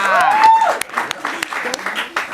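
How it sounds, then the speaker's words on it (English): Steady applause from a crowd with voices talking over it, fairly loud and continuous throughout. "Why are the ladies clapping extra hard?"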